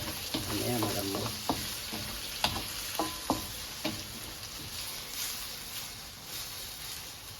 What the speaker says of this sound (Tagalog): Pirituin lang natin na maayos